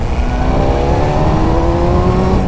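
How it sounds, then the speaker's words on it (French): Loud, steady engine drone with rising harmonic whine as a Suzuki GSX-R750 four-cylinder motorcycle revs, close and continuous. "faire entendre un petit peu le chantonnement de ce merveilleux 4 cylindres"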